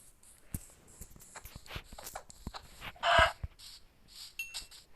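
A Minecraft chicken gives a short, fairly loud burst of clucking partway through, set among soft, scattered in-game sounds.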